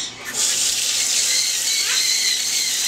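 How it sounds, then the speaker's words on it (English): Hot water runs from a tap in a steady, hissing stream into hand-feeding formula for baby birds, starting abruptly and continuing close and loud throughout. "This is the hand feeding formula, and he's adding hot water."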